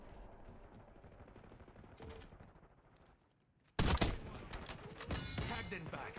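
Gunfire in Black Ops 6 from a shotgun, a dense crackle of shots early that thins out and goes quiet, then a sudden loud close blast followed by further heavy shots and clatter.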